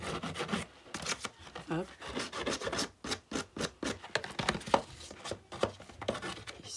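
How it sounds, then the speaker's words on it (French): Scissors snip through paper in quick, uneven runs of crisp close-up cuts while making a decorated shabby-style house box, with a brief spoken interjection. "je prends mon ciseau"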